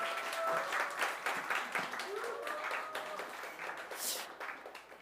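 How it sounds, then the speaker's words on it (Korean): A church congregation at a Sunday worship service applauds a missionary being welcomed forward, the clapping distant and fairly quiet, with scattered brighter claps and a voice speaking over it. "우리 큰 박수로 모시도록 하겠습니다"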